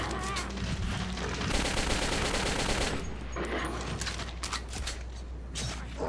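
Gunfire in the Metro 2033 video game, dense and continuous under a loud, busy mix of combat noise, with bursts of shots running through the whole stretch.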